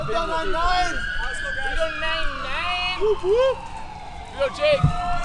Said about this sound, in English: Looks like Hastings Volunteer Ambulance Corps responding on a call over there